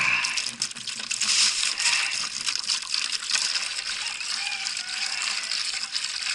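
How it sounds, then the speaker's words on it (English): Steady trickling and splashing of maple sap running and dripping from a tapped maple tree, a continuous watery flow close by with no talking. "Look at that dripping."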